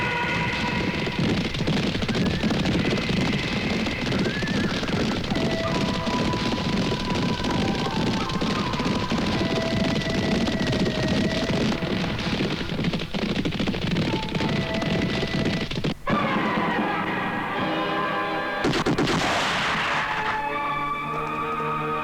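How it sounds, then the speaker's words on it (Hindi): Rapid gunfire crackles in a Hindi action film scene, dense bursts of shooting over a rumbling background that then gives way to tonal music and a final sharp crash. "हमने इसे गोलियों से भून दिया"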